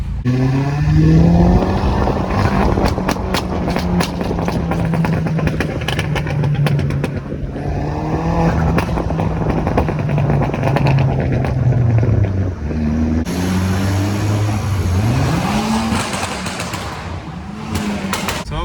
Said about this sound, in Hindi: जस्ट हम लोग एग्जॉस्ट का आवाज़ निकाल रहे हैं